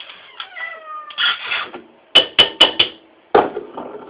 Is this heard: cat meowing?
yes